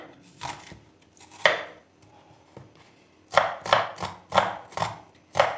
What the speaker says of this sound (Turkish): Makarnayı yapmaya şöyle bir baş soğanı küçük küçük doğrayarak başlıyorum.